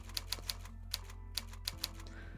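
Keys clack on a computer keyboard during typing practice, sharp, evenly spaced taps ringing out one by one over a steady low electrical hum, close and fairly quiet, with no voices.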